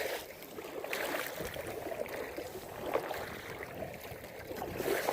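Kayak paddling on open water on a bright day: steady broadband swish and splash of water with faint wind, soft paddle strokes rising in the middle and near the end, no talk.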